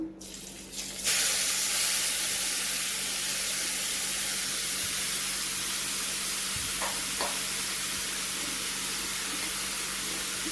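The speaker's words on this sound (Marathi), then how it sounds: "आता ह्याच तूपमध्ये आपण जो भोपळा किसून घेतलेला आहे तो ॲड करूया" Grated pumpkin tipped into hot ghee for halwa, after dry fruits were fried in it, gives a sudden burst of loud, broad sizzling hiss that then holds steady and close for the rest of the clip.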